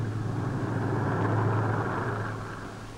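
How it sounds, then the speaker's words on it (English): Piston-engined WWII bombers drone steadily overhead, a low sustained engine hum with a strong tonal band, swelling slightly midway then easing as they pass. "the bombers returned to their base"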